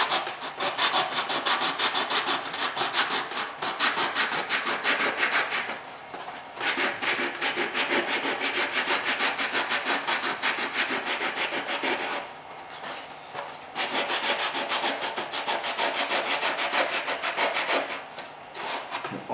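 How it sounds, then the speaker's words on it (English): A wooden guitar brace has its bottom sanded by hand, close and alone: a continuous rasping rub of abrasive on wood in rhythmic back-and-forth strokes, broken by a few short pauses. "But now I can sand the bottom of that."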